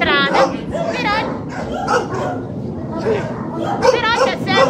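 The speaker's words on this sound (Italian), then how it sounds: "questi sono già cani passati al rifugio" Many dogs bark and yip at a municipal kennel in Grosseto, overlapping bursts of barking throughout, loud and close, with some whimpering and a person talking underneath.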